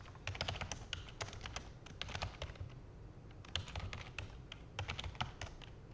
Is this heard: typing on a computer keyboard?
yes